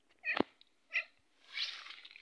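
A domestic cat meows twice, two short close calls about half a second apart, followed by a soft rustling noise.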